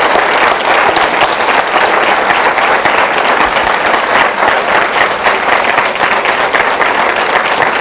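An audience in a synagogue applauds steadily and loudly, dense clapping filling the whole stretch without a break or voices.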